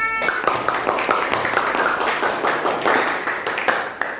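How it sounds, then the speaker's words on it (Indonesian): A class of children clap their hands together in a classroom lesson, a brisk, slightly uneven patter of many hands at close range lasting a few seconds. "Tepuk tangan untuk kita semua, anak-anak."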